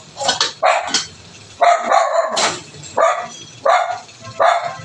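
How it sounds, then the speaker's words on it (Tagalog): A dog barks in a series of sharp, loud bursts nearby, roughly one every half second or so, with brief pauses between barks. "hindi daw vlogger kasi tinatahulan ng aso"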